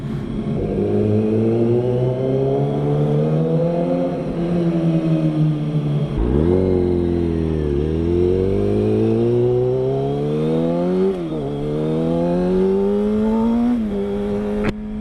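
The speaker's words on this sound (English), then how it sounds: "You get a good amount of the exhaust, and you can hear me" A motorcycle exhaust drones loudly and close while riding at about 60 mph, its pitch rising and falling through several gear shifts, with wind rushing steadily throughout.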